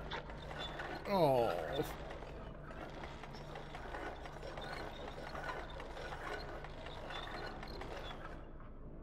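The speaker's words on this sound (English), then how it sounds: "their machine hand ties the sausage for you, which is actually pretty impressive" Sausage-making machine mechanism in the Little Nightmares video game, a loud squealing mechanical sweep near the start followed by continuous clanking, ratcheting machinery rumbling on, with a person briefly speaking over it.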